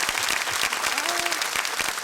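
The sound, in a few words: studio audience applause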